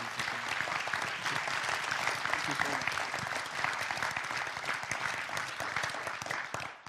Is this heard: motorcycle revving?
no